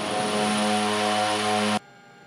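A twin-engine Twin Otter propeller aircraft drones loudly in flight, a steady layered engine hum with strong tonal whine that cuts off abruptly near the end.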